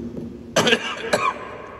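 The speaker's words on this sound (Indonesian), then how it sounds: "Mohon maaf batuk ya." Two sharp coughs close by, one right after the other, breaking an otherwise quiet mosque during a dawn religious lecture.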